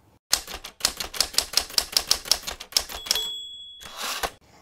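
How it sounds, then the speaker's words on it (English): Crisp typewriter keystrokes clack in a quick, steady run, then a bell dings and the carriage slides back before a few more taps. "Farmer Brown got out his own typewriter."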